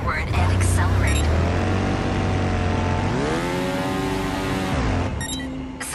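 A motorbike in Trials Fusion revs and accelerates up a steep hill, its engine note climbing and holding high and loud, with a voice talking over it.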